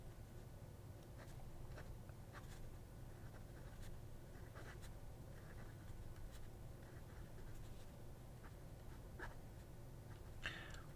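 Hongdian N25 fountain pen writing on Bachuan paper, a thin Chinese paper, producing faint scratchy nib strokes in short repeated bursts over a steady low background hum, with no voices.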